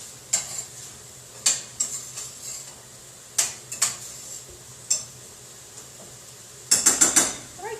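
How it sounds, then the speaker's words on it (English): Vegetables for boeuf bourguignon being stirred in a pot, a handful of sharp utensil scrapes and clinks at irregular intervals with a faint sizzle underneath, ending in a quick cluster of strokes. "All right, so let me stir our veggies."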